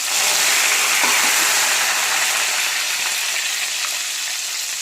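Curry leaves hit hot tempering oil already holding dried red chilies, urad dal, chana dal, cumin and mustard seeds, giving a loud, dense, continuous sizzle up close that barely fades.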